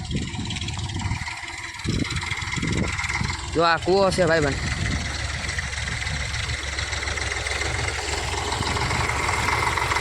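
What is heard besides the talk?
tractor engine running on a farm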